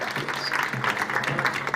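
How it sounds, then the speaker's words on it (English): A crowd at a youth climate adaptation dialogue applauds UN Secretary General Ban Ki-moon, brief uneven clapping at moderate loudness. "A big applause for Secretary General Ban Ki-moon"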